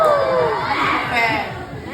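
Crowd shouting at a village fiesta, a loud mass of overlapping voices and cheers with a few rising calls, nearby and lively, with speech among the noise.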